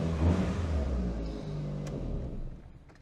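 A 1990s Japanese GT turbo car idles nearby with a low, steady rumble. The engine note tapers toward the end of the clip as it is shut off, and no one speaks.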